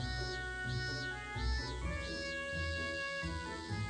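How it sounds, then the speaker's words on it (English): A cat meows in the video game Trails of Cold Steel, a rhythmic series of about five short meows over a steady musical background, no talking. "What's the cat doing over there?"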